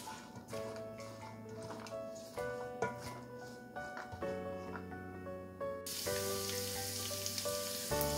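Peas (matar) with salt and lemon juice fry in a pan, giving a hissing sizzle that grows much louder and more continuous near the end, set against tonal music playing throughout.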